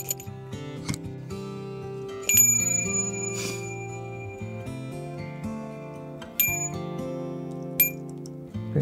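A tiny bell on a handmade beaded cardinal ornament jingles in a few bright, light rings and clinks, close and fairly quiet, with no talk.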